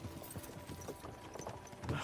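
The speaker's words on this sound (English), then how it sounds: "don't you think maybe we could make the horses go a little faster?" Horse hooves clip-clopping at a slow, steady walk in Kingdom Come: Deliverance 2, quiet and fairly close, with faint speech in the background.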